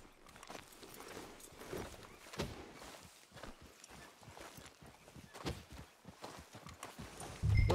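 A horse walks in Red Dead Redemption 2, its hooves giving a steady, rhythmic clip-clop at moderate distance, fairly quiet and unbroken, with a low thump at the very end.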